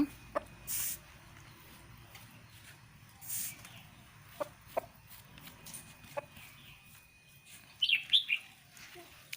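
A chicken clucks and chirps in short, scattered calls while its face is being washed, with small splashes and handling noises in between and a brief cluster of sharper calls near the end.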